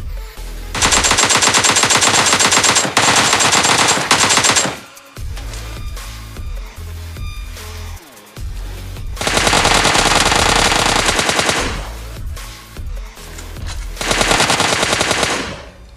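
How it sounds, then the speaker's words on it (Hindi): M4 assault rifle fire in PUBG Mobile Lite: three long, loud bursts of rapid automatic shots with short pauses between them and no voices. "मैं जब स्ट्रेकेस से आ रहा था तो मैं मतलब गन फायर कर करके मतलब आ रहा था"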